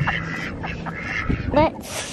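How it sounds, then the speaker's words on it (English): Farm ducks quack in a few short, nasal bursts close by, mixed with a person talking over them in a noisy outdoor setting. "here's our birds. Hello, quackies."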